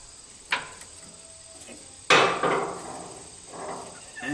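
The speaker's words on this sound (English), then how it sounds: "use that like a screwdriver to get that clamp off" A tool pries at a radiator hose clamp, giving two sharp metallic knocks, the second followed by a rattling scrape and clatter, close and fairly loud.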